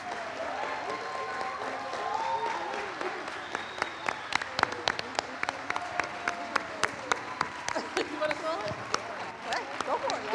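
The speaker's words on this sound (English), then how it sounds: "one more round of applause for the Cohort 2 Circles Club class of 2025" A crowd at a graduation ceremony applauds, with many sharp claps that grow denser and more distinct partway through, while voices chatter in the background.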